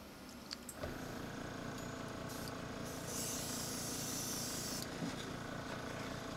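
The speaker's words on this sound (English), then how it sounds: "we're just going to spray it right on the armor areas" An airbrush sprays paint onto the armor of a model Evil Sunz Trukk, a steady close hiss that runs throughout and swells louder partway through, with no talking.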